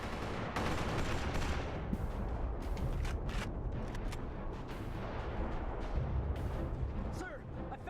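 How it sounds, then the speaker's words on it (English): Video-game artillery fire pounds a beach in a dense, continuous barrage of booming blasts and rattling gunfire, loud and unbroken, with voices speaking beneath the battle noise. "Sir, I found the artillery. They're pounding the hell out of the beach."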